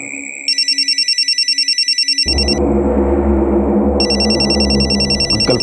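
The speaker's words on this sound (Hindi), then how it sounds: "हाँ मेरा फोन बज रहा है।" A telephone rings in steady electronic trills, loud and close, continuing over a sudden burst of broadband noise partway through.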